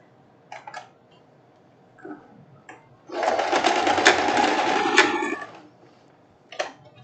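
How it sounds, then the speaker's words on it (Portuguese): A sewing machine stitches the seam on the other side of a short printed dress in one steady burst of about two seconds. Brief soft handling clicks come before and after it in an otherwise quiet room. "agora a gente vem aqui e costura já o outro lado"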